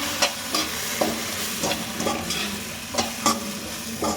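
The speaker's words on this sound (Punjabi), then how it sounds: "ਹੁਣ ਅਸੀਂ ਇਹਦੇ ਵਿੱਚ ਸੋਜੀ ਪਾ ਦਾਂਗੇ" A spoon stirs semolina into softened tomatoes and onions in a hot pan, giving repeated scraping strokes over a continuous sizzle, close and clear with no one talking.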